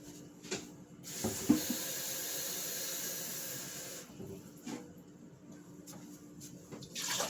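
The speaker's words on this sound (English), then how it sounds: "Right now I'm just adding water." Tap water running and splashing into a cooking pot for prime rib soup, a steady hissing stream broken by short pauses as the pot is filled cup by cup.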